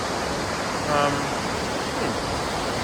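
A waterfall where jumping championships are held gives a steady, close broadband roar of rushing water, with a faint voice briefly rising over it.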